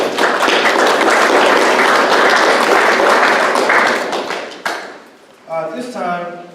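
Audience applause at a village board meeting, a dense sustained clapping that fills the room for about four and a half seconds before fading, after which a voice begins speaking.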